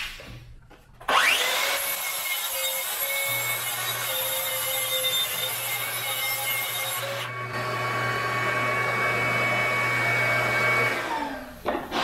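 A table saw trims plywood pieces to width: the motor spins up sharply, then a loud, sustained whine carries through the cut before winding down near the end.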